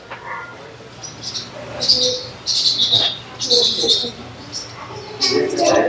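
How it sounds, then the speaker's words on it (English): Small birds chirp in bursts of high, thin tweets inside a very large walk-through bird aviary, scattered calls repeating over a low background hum. "I just noticed there's little birds up there."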